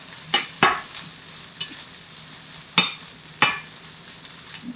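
Canned black beans, drained and salted, are stirred in a frying pan over a faint low sizzle. A handful of sharp, scattered scrapes and taps from the utensil sound up close, with no talking.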